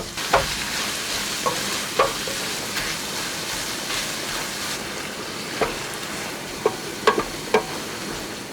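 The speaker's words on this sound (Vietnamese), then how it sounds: "Trộn đều và mình xào cho thịt chín mềm" Meat seasoned with a pinch of five-spice powder sizzles steadily while being stir-fried in a pan for liver pâté, with a spatula scraping and clicking against the pan every second or so.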